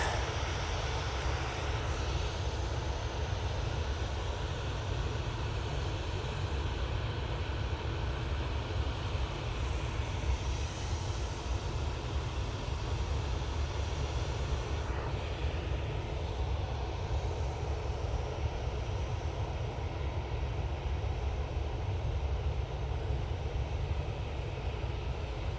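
A propeller airliner from Belfast touching down, a continuous even engine drone with a faint rumble of the landing, steady and moderately loud throughout, no voices.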